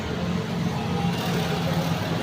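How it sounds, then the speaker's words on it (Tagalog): A noisy motorcycle engine runs steadily and close by, a constant low rumble with no pauses or speech. "Maingay kasi mga kadrama yung motor."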